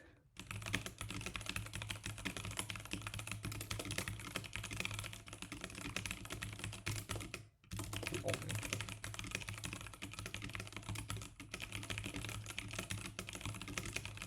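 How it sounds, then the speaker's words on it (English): Continuous typing on a computer keyboard, with dense rapid clacking keystrokes close up, briefly pausing once midway, over a faint background hum and no speech. "Trigger warning for anybody who doesn't like my keyboard."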